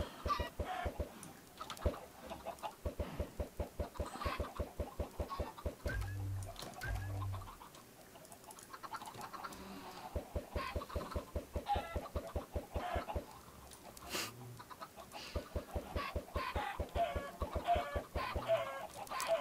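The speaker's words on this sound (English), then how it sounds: "There's so many chickens in here." Chickens cluck in Minecraft, with the FiskHeroes mod loaded, in rapid rhythmic runs of short clucks repeating over a steady low background hum, fairly faint.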